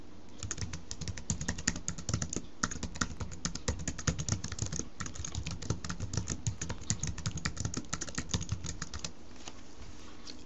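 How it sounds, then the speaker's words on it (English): Rapid, steady clatter of keys on a computer keyboard, close and fairly loud, with a few brief pauses between bursts of typing and no voices. "type a brief description for the transaction"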